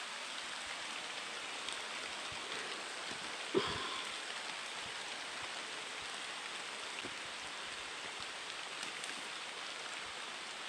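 Steady, soft rain falls across a worksite as a continuous even hiss, with one brief knock partway through and no voices.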